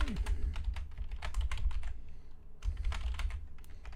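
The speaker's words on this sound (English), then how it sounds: "Sorry if you're hearing my keyboard clank around." Quick keyboard typing nearby, a steady run of clicky keystrokes with a short gap in the middle before resuming.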